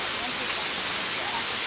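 Water rushing through a brown-rocked gorge on a university campus, a steady broadband roar that fills the whole clip without pause, close and fairly loud.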